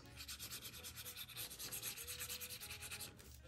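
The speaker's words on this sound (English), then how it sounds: "Open it up and burnish." Folded paper of a holiday explosion box mini album is burnished with quick rhythmic rubbing strokes, a close, steady swishing scrape repeating several times per second with no talk.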